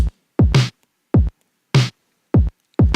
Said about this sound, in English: So let's program just a simple kick and snare, right?